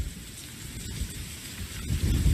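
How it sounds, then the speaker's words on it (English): Hurricane Irma lashes Naples, Florida, with constant rain and gusting wind, a dense, roaring wash of noise that surges louder toward the end. "The wind is picking up. The gusts are measured in excess of 70 miles an hour. The rain has been constant."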